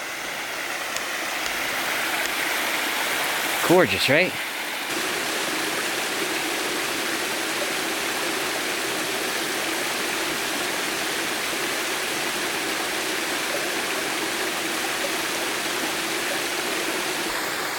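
Steady, close rush of a waterfall and stream at Brook Falls along a wooded hiking trail, a continuous broad roar that fills the whole stretch, with a brief spoken remark near the start.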